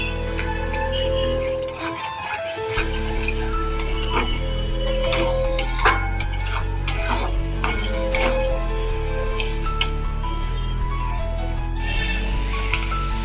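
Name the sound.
frying and stirring spice masala in a pan for dum aloo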